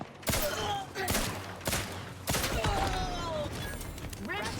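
Sci-fi shooter gunfire in The Outer Worlds 2, a rapid sequence of sharp, loud shots in clustered bursts, close up, with faint mechanical whines between them and no talk.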